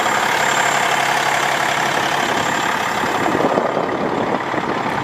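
A 2020 Peterbilt 567 truck with a 505-horsepower engine idles nearby, a loud, steady rumble with a constant hiss that holds unchanged throughout, no voices.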